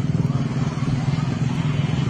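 Motorcycles sit stopped in traffic on a polluted road, giving a steady, close low engine rumble with a faint clatter that holds level throughout.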